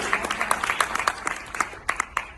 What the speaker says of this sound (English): I think we should give them a round of applause for having some courage right.